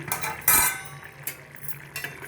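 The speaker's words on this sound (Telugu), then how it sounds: "ఒకసారి మూత తీసి చూద్దాము" A metal lid lifts off a simmering pot of egg curry with one loud, bright clink, followed by a few softer clatters and light scraping of cookware close by.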